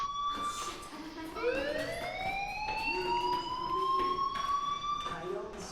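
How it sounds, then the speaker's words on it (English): An alarm wails in the video game Life is Strange, with a long rising, sweeping siren tone that climbs and holds while a voice talks briefly in the background. "do you hear that fire alarm?"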